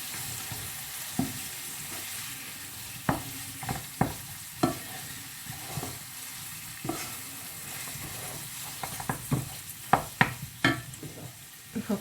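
A spoon stirs tomato and dried mint in a frying pan, a soft continuous sizzle broken by irregular scraping knocks and clinks against the pan, close and moderately quiet.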